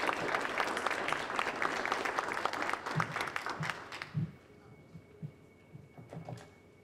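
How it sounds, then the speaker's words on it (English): Applause from an awards-ceremony audience for a writing award winner, dense clapping for about four seconds that fades out, followed by a few soft thumps and low hum in a quieter room. "a hearty round of applause for the Award of Excellence winner, Alexa Atkinson, for Instinct."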